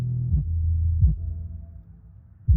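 A Sundown Audio SA-12 V2 12-inch car subwoofer plays deep, clean sustained bass notes, close and loud, with short thumping attacks starting new notes every second or so and no talking.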